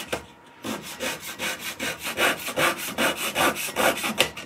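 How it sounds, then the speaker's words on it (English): Hand sanding a small turned wooden angel figure: rhythmic back-and-forth rasping strokes, about a dozen close, even passes in quick succession with no talking. "This side, we'll do a little bit of sanding on this,"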